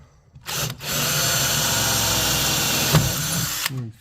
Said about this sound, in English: Oh, wrong drill.